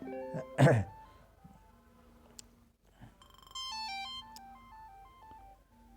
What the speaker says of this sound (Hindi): एक बार बीच में टेलीफोन आ गया था इसलिए थोड़ा सा जो है वो डिस्टरबेंस हुई है।